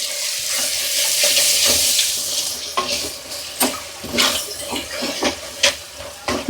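Egg pulusu masala being stirred in a hot pan, a steady frying sizzle running throughout with a series of sharp spoon scrapes and knocks growing more frequent toward the end.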